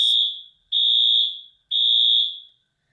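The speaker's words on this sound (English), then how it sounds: "And the fire alarm is still going off." A fire alarm is going off indoors, sounding three loud, piercing high beeps in a steady rhythm with short gaps between them, and no voices over it.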